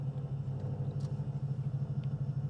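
A steady low rumble and vibration from a 2007 Ford Mustang GT custom, droning evenly and continuously at close range with no voices.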